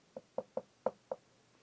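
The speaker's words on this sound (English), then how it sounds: "Maybe I should knock again?" Five sharp knocks on a door in an irregular rhythm, two quick pairs and a final rap, fairly close and moderately loud, alone with no talking.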